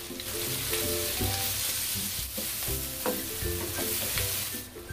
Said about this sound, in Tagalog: Patuloy itong igigisa ng mga 2 minuto.